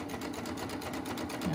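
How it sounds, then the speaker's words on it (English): Baby Lock serger stitching binding onto a knit mask, a steady fast whirring hum with rapid rhythmic needle pulses running throughout, fairly quiet and close with no talk. "I've got my presser foot down, and I'm gonna stitch."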